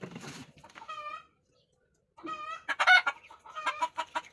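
A chicken clucks and squawks in loud, choppy bursts, pausing briefly before a longer run of excited calls; fairly close.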